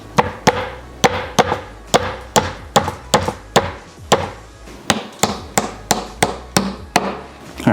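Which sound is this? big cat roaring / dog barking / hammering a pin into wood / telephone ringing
hammering a pin into wood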